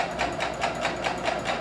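Sewing machine stitching a peasant tunic seam, back stitching with a rapid, even mechanical chatter of repeated needle strokes, close and steady for the whole short stretch.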